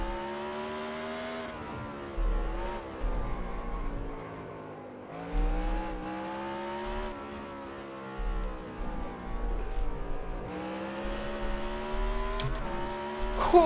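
An IndyCar race car in NASCAR Racing 2003 screams through repeated high revving engine pulls, with pitch climbing then dropping sharply at each shift or braking point, loud and close with no talk.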